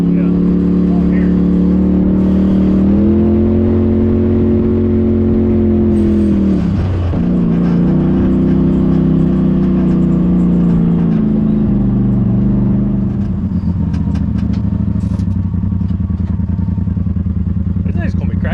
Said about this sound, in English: I feel like the blow-off valve might get old after a while.